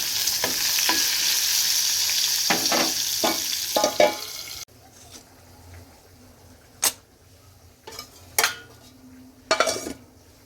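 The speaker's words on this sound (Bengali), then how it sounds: "আলুগুলো ভাজা হচ্ছে" Potatoes frying in a pan, a loud sizzle broken by several sharp scrapes and clatters of a spatula stirring, then a quieter stretch with a few isolated metallic knocks.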